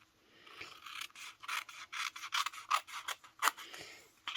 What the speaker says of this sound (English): just cut a piece that matches up with the size that you're going to be die cutting from